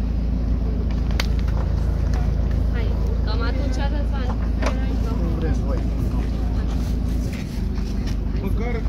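Steady loud rumble of an ARO off-road car's Brașov-built engine driving, with people talking over it throughout.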